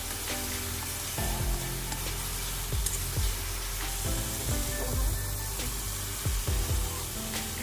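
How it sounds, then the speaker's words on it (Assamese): Garlic, ginger and onion paste sizzles steadily in hot oil in a pan, with repeated scraping strokes of a stirring spoon over the constant frying hiss. "এতিয়া দিছোঁ ৰসুন আদা আৰু পিঁয়াজৰ পেষ্টটো দি ভালদৰে লৰাই লৈছোঁ।"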